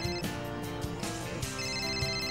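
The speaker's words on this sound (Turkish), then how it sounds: "Lan telefon çalıyor." A telephone rings indoors in a Turkish TV drama scene, a steady electronic ringtone with bright tonal melody layered over faint background music, continuous and fairly close.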